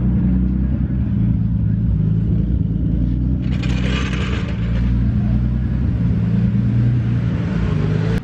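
A car engine idling steadily right after being started, a loud close low rumble holding even throughout with a hissy rise partway through.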